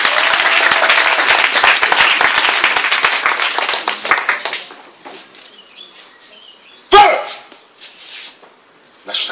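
A church congregation applauds and cheers for Jesus in dense, loud clapping that fades away after a few seconds, leaving quieter room sound, one sharp bang and some scattered voices.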